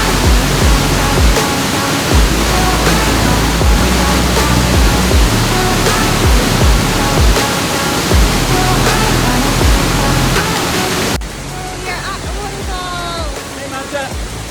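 A secluded waterfall thunders in a steady, loud broadband roar that fills the whole stretch, then drops a little in level near the end, where faint higher sounds come through.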